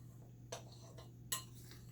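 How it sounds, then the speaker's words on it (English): Metal spoon stirring dry cornbread ingredients in a bowl, giving a few sparse, quiet clinks and scrapes over a steady low hum, with no talking. "I'm going to mix them together with a spoon."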